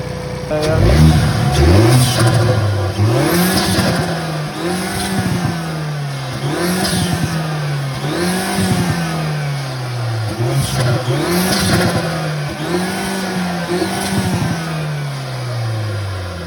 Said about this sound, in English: So we're going to rev it, and the engine's warmer now, so we're going to give it a go now.